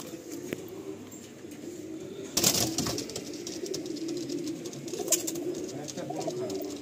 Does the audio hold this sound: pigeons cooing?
yes